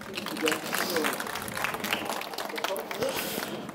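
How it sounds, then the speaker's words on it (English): Conference audience applause at a tech talk on Kinect, a scattered patter of clapping spread through the room with a few louder bursts and some voices mixed in. "Round of applause, please."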